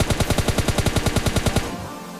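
Rapid automatic gunfire in the PUBG Mobile Lite video game, a single spray of about fifteen evenly spaced, loud close shots lasting under two seconds, then fading into quieter background sound.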